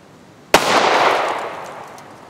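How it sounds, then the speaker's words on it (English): A single loud, sharp shot from a Glock 30S compact .45 ACP semi-automatic pistol fired outdoors at a turnip target, with a rolling echo that fades over about two seconds. "they make a pretty good target, so we're going to shoot one"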